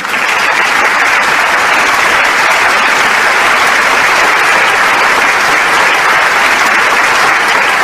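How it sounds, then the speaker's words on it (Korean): Loud, sustained applause from a large crowd at an outdoor blessing ceremony in Cheongnyangni Station plaza, a dense steady wash of clapping that continues unbroken throughout. "다시 한번 뜨거운 감사의 박수를 올려주시면 좋겠습니다"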